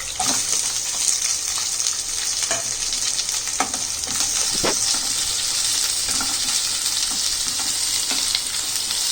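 Onions with green and dried red chillies sizzle steadily in a hot pan, a constant bright frying hiss with scattered soft clicks and scrapes of stirring throughout, no voices.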